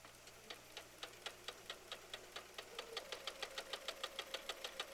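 A sewing machine stitches two quilt rows at once, its needle ticking in a steady, quickening rhythm that grows louder and faster toward the end, with no talking.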